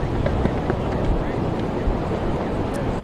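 Strong wind gusting across Pensacola Beach during Hurricane Helene, a steady loud roar buffeting the microphone outdoors, with a voice faintly present in the clip.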